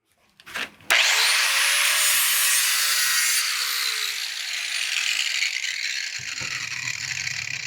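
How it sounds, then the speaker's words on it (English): An angle grinder sharpens the tip of a metal hay temperature probe. After a brief clatter, a loud, close, continuous high-pitched grinding whine sets in and sustains, its tone sliding gradually as the metal is worked. "We're just simply going to take our angle grinder, round off the end, and sharpen the tip."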